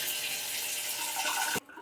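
Water pours steadily from a newly installed shower valve faucet, a loud, close, continuous rush that cuts off abruptly near the end.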